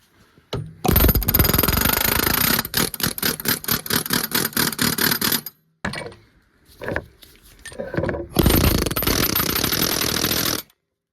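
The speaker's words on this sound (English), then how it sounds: "I'm not worried about damaging it with an air hammer" An air hammer rattles in rapid bursts against the steering knuckle of a Kawasaki Mule Pro utility vehicle, loud and close, with several long runs separated by short pauses.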